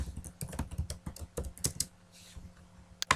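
Bursts of keystrokes on a computer keyboard, rapid and uneven, typed close by in a quiet room with a short pause before a final few taps.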